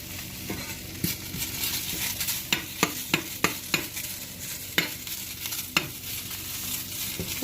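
Fresh green chillies are stir-fried in a pan, with a steady sizzle under a run of sharp scraping spatula strokes that come in quick bursts, close up and with no talk.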